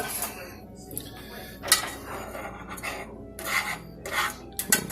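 Spoon and dishes clinking in a home kitchen while making fresh strawberry cobbler, with scattered metallic clinks and scraping rubs at varying loudness, fairly close, no talking.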